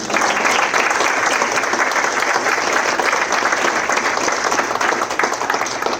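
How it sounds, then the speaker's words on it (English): A roomful of guests at a legislative donors' breakfast claps in a dense, steady wash of applause that holds at an even, full level throughout. "A round of applause for the people."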